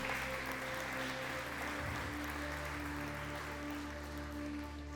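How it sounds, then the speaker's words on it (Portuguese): A church congregation applauds steadily in a dense wash of clapping, with sustained music tones running underneath for the whole stretch. "Pode aplaudir o nome do Senhor."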